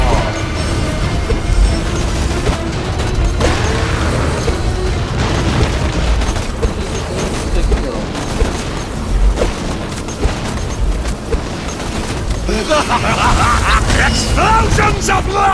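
Explosions and gunfire from the video game Borderlands 2 boom and crash in a loud, continuous barrage, with heavy low impacts scattered throughout and a voice talking over the action.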